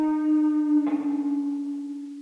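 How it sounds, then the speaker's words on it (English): A virtual Ample slide guitar, semi-hollow model with a harmonic ambience preset, sounds one sustained, shimmering note that slides slightly and wavers as it fades, alone and close. "The only other guitar that I've added here is this Ample slide guitar from the semi-hollow."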